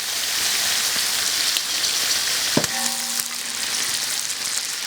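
Duck pieces frying in a wok just after cooking wine is poured in, giving a steady close crackling sizzle with a brief louder burst partway through, no talking.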